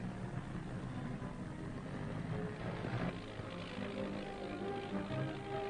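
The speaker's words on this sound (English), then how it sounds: "He opens up his throttle, away he goes, into wind, tearing down the runway." A 1942 British Fleet Air Arm aircraft engine drones steadily at full throttle during a takeoff run, a continuous, moderately loud propeller rumble with no clear breaks.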